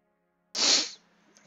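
A single sharp sneeze bursts out after a moment of near silence and trails off quickly, loud and close to the microphone.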